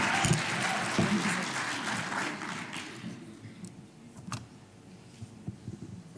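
Audience applause greeting the Governor at a school challenge winners' announcement, a dense burst of clapping that is loud at first, then thins out into scattered claps over the last few seconds.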